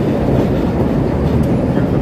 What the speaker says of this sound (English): We'll get the L here going by.